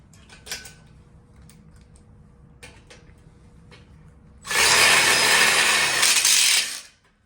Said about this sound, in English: screw it in with 2 screws